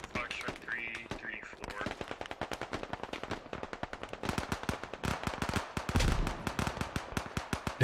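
Rapid bursts of automatic gunfire ring out in the military shooter video game Squad. Dense, loud rattling shots run continuously throughout, with a voice faintly heard beneath the firing.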